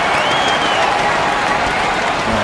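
A simulated college basketball arena crowd, Alabama at Kentucky, roars and cheers loudly and continuously after a long three-pointer, a dense wash of applause with a faint commentator voice underneath.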